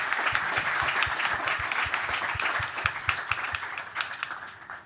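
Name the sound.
applause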